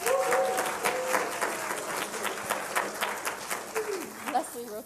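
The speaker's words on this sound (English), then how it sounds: "Give her a round of applause." Scattered applause rises from an audience at a recycling market development event, with several sharp claps early on that thin out and fade. Voices can be heard talking over the clapping.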